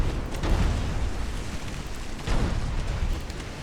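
Shell hit exploding on a warship in the naval strategy video game Ultimate Admiral: Dreadnoughts: a loud, deep rumbling blast that swells, fades briefly, then rolls again, filling the clip without speech.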